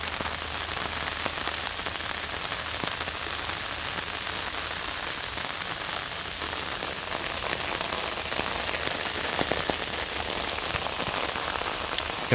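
Rain falls steadily over a village, a continuous close hiss with scattered drops landing on nearby surfaces, unbroken and with no voices.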